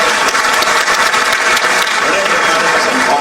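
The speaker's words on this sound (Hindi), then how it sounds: "जोरदार ताली बजाओ हमारे सब" A large crowd of youth and students claps loudly at a chief minister's gathering in Bhopal, sustained thick applause that runs without pause from start to finish.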